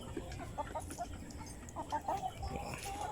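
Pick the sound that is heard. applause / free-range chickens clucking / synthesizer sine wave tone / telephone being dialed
free-range chickens clucking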